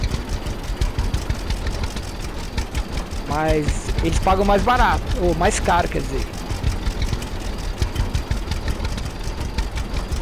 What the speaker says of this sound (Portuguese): Com esse trator andando a 20 por hora